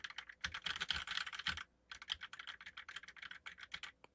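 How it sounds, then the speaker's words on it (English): Rapid, uneven keystrokes clatter on a computer keyboard, picked up by a Shure MV6 USB microphone, pausing briefly in the middle before the typing resumes at a quick pace. "it still picks up keyboard noise pretty good"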